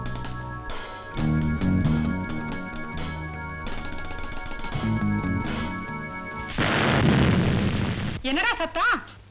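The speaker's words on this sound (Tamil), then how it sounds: "அது ஃபியூஸான பல்பு தூக்கி போட்டா வெடிக்காதா" A fused light bulb is thrown down and bursts with a loud, sharp crack in a Tamil film scene. The pop rises out of background music, followed by a brief vocal sound.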